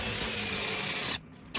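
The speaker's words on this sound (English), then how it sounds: "go ahead and countersink those holes just a little bit, not want to go too crazy with it" A drill countersinking screw holes in pallet wood for a Halloween ghost decoration, with a steady close whirring grind that cuts off abruptly, then a short quiet gap and a brief restart.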